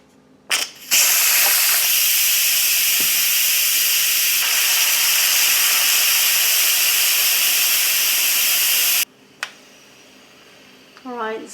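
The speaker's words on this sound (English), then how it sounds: "release all of the steam in a quick release" An Instant Pot vents in a quick release, a loud sustained hiss of steam bursting out after a click and running for about eight seconds before cutting off abruptly, followed by faint clicks and brief talk.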